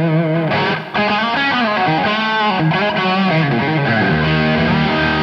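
Heavily distorted electric guitar through a distortion preset of an Eventide H90 multi-effects pedal, loud and sustained chords and lead notes with thick harmonic saturation across the whole stretch, with a brief dip near the start.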